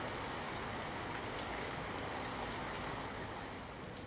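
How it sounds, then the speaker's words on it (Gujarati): Heavy evening downpour in Botad, Gujarat, falling as a dense, steady roar of rain with no break or voices. "બોટાદ જિલ્લાના ગ્રામ્ય વિસ્તારોમાં પણ ધોધમાર વરસાદ પડ્યો છે"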